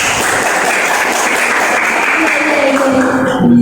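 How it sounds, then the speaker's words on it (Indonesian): Schoolchildren clap for a classmate in a classroom, a loud, steady wash of applause that runs throughout, with a voice beginning to speak over it toward the end. "Tepuk tangan buat Febri."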